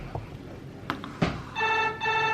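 A home landline telephone rings with a bright electronic trill in two bursts, loud and close, after a few scattered knocks and handling sounds in a quiet room.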